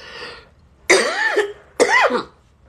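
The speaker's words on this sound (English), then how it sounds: "I got a cough" Two loud, harsh coughs close up, spaced about a second apart, after a faint brief sound at the start.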